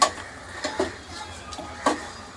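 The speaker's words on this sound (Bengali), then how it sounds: "দেখ এরকম ভাবে নেড়ে চেড়ে ভালো করে মিক্স করে নিতে হবে" A spoon stirring and mixing surmai fish curry in a pan: scattered light scrapes and a few sharp metallic clinks against the pan, spaced irregularly over a quiet kitchen background.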